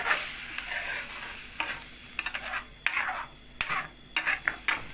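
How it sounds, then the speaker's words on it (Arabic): Water poured into rice and vermicelli frying in a pan, with a loud, steady hiss that breaks into sharp bursts of sizzling and spitting toward the end. "انا هنزل بالميه بتاعتي اهو"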